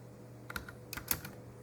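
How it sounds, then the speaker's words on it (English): Light keystrokes on a computer keyboard as a company name is typed, a few quick soft taps in small clusters, close and quiet over a faint background hum. "if you go to moneycontrol.com and type in the name of the company that you want to analyze"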